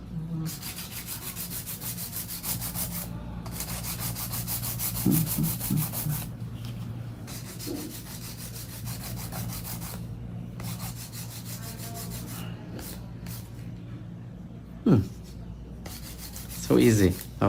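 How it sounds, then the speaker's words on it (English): A hand nail file rasps back and forth across long nails in quick, steady, close strokes, pausing briefly several times, with a few small clicks near the end. "I always recommend hand filing when it comes to long nails."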